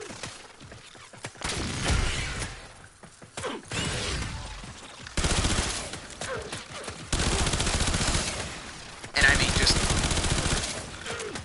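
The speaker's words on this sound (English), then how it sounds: "Look at how these rounds are just being fired off." Weapon rounds firing in Warframe, rapid mechanical bursts of gunfire in several loud stretches separated by brief gaps, with clanking weapon mechanisms between them.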